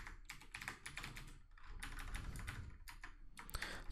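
Rapid bursts of keystrokes clatter on a computer keyboard as Python code is typed, close and steady with brief pauses between runs of typing and no voices.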